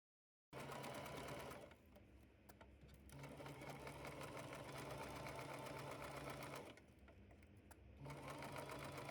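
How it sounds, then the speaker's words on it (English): A sewing machine stitching the pinned seams of a fabric make-up bag, a close, continuous mechanical whir running in long steady bursts with brief slowdowns between them. "After you're done pinning, sew the pinned areas."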